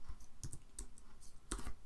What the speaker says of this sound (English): by typing on the text there, I can edit when the event is.